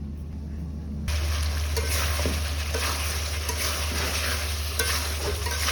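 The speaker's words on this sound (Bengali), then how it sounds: "এখন আমি তো কাঁচা কলার চপ ভাজতেছি বেসন দিয়ে।" Raw banana chops coated in besan batter fry in hot oil with a steady, dense sizzle that swells louder after the first second, mixed with occasional stirring clatter and no talking.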